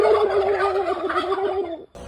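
Giant turkeys gobbling in the Thai countryside near a temple, a close, loud warbling gobble running for about two seconds before cutting off.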